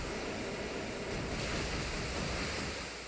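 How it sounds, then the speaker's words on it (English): Heavy water splashing and rushing from a Water Spout attack in a Pokémon battle video game, a loud continuous wash of surging water like crashing surf that fills the whole stretch without pause. "He's gonna take these Water Spouts pretty well."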